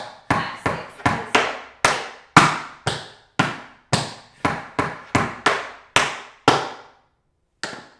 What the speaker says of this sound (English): So that scuff happens right after